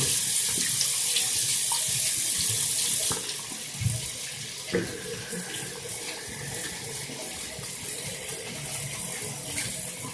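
Water runs steadily from a tap to wet a brush, a continuous close splashing hiss that keeps going throughout, slightly quieter after the first few seconds.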